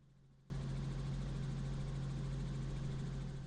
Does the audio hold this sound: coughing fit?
no